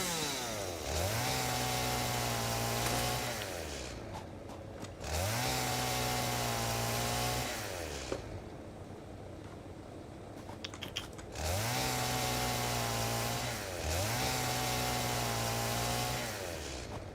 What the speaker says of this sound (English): let's get the chainsaw back going again